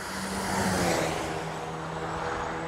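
A car on a race circuit during a brake test, with pads fitted to NF6P calipers, passes at speed as a broad, moderately loud engine and road roar that swells and then fades.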